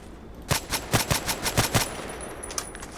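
An SVU-AS automatic sniper rifle fires in the Contract Wars shooter game. About seven loud, sharp shots come in a quick, even burst, followed by a fading tail and faint background game noise.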